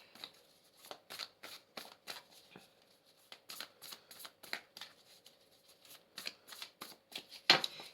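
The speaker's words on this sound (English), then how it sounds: "I'm just going to shuffle again." Tarot cards are shuffled repeatedly in quick, rhythmic riffles and snaps, close and fairly quiet, with no talking.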